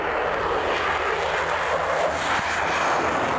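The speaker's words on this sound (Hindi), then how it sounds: "रूस के बम बरसाने वाले विमान भी शामिल हुए।" A Russian bomber aircraft, capable of air-launched nuclear missiles, flies during a military exercise, producing a dense, continuous engine roar with a broad rushing hiss, loud and steady throughout with no talking.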